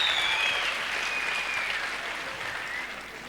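Steady audience applause fills the room, a thick wash of many clapping hands at moderate level, slowly thinning as it goes on, with a faint high whistle-like tone drifting above it.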